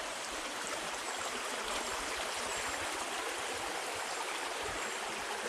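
A river flows under a bridge near a marsh, making a steady, dense rushing and gurgling wash that holds at constant loudness with no voices.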